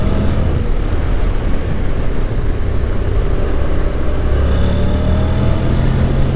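A 2012 Honda NC700X DCT motorcycle with automatic dual-clutch gearbox pulls in fourth gear into a corner, a steady engine drone buried under heavy wind rush against the microphone throughout.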